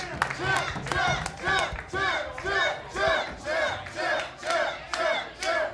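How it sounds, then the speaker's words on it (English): A fight-night crowd at the PFC Pound Down event chants and cheers in loud rhythmic waves, roughly two pulses per second, for two fighters awaiting the decision, with scattered clapping underneath. "one more large and appreciative round of applause for these two world-class warriors"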